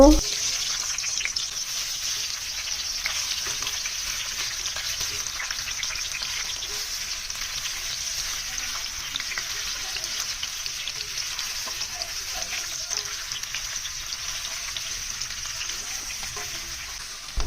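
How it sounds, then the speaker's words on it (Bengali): Raw mango pieces for morabba frying together in a pan, a steady, even sizzle holding at a constant level for the whole stretch, close by and unbroken, with no voice over it. "এবার আমি সবগুলো আম একসাথে ভেজে নিব।"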